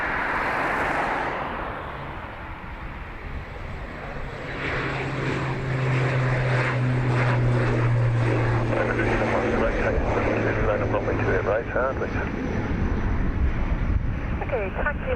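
An ATR turboprop departs from Dublin Airport, its propeller drone building into a steady, loud hum with a low tonal throb, some wind buffeting, and a radio voice talking at the end.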